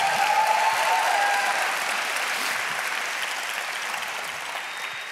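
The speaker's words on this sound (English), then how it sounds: "give the Lord a hand clap in this place." A church congregation claps for the Lord during a sermon, a full room of hands applauding steadily and then slowly fading over a few seconds.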